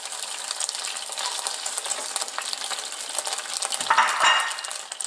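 Beef strips stir-fry in a hot pan with a close, steady hiss and crackle for pepper steak, followed near the end by a brief metallic clatter of utensil against pan.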